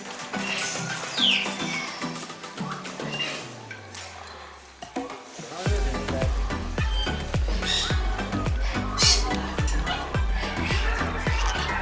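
Parrots at a parrot rescue in Oedelem, Belgium, among them a red-fronted or Congo parrot, giving sharp scattered squawks and calls amid clattering, knocking sounds and some background voices.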